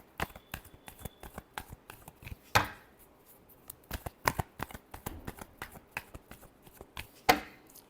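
Tarot cards shuffled by hand in a steady run of crisp riffling flutters, close and fairly quiet, with a couple of sharper bridge-like snaps standing out.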